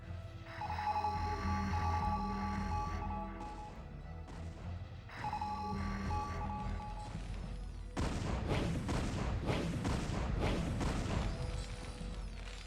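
StarCraft Brood War siege tanks fire repeated heavy cannon shots in bursts, with explosive crashes and a busy battle clatter that grows dense toward the end, heard under the game's background tones.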